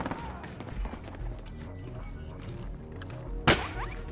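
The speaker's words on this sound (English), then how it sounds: "I'm getting shot from so many angles" Scattered video game gunfire, a spread of sharp pops and cracks from several directions, capped by one loud close shot near the end, with faint background game sounds.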